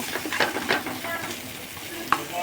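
Chopped onion and green chilies fry in a pan with a bright, continuous sizzle, and a spatula scrapes and stirs at uneven intervals close by.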